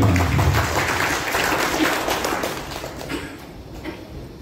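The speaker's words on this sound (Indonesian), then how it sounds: "Tepuk tangan untuk FMA" A crowd claps at a send-off ceremony for special Hajj pilgrims, a broad burst of applause that starts loud and gradually thins and fades over a few seconds.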